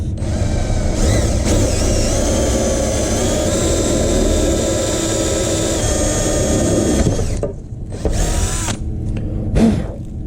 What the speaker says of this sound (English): I'm ready to just go in with the drill bit.